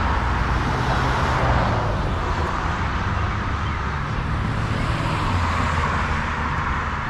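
Early-morning road traffic around 6:42 am, a dense, unbroken wash of cars, buses and trucks with no single vehicle standing out, heard from the roadside without any talking.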